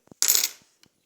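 Foreign coins, including a Hungarian forint, handled and dropped onto a surface at close range, giving one bright metallic clatter after faint clicks and followed by a couple of small taps.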